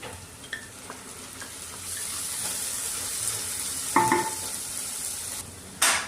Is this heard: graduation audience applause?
no